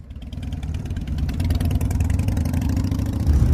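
A motorcycle engine at a freestyle stunt show idles and then builds with throaty revving, the rumble growing louder toward the end.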